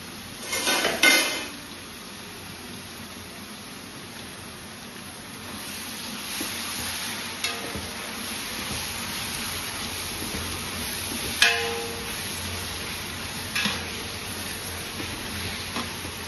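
Onions cook in a pan for mutton curry with a low, steady sizzle, broken by occasional clinks and scrapes of a spoon against the metal pan as they are stirred.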